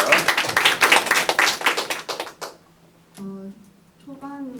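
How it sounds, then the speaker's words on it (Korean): Audience at a Korean university class presentation bursts into dense clapping for a student, a close, steady patter lasting a couple of seconds before fading into quiet and a voice speaking. "박수 한번 주시고요"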